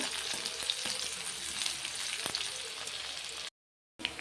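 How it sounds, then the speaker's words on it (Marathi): Onion and curry leaves frying in a pan for upma give a steady, close, bright sizzle with soft crackles throughout, cut by a brief silent gap near the end before the frying resumes. "थोडा कढीपत्ता, कांदा होऊ देऊयात छान।"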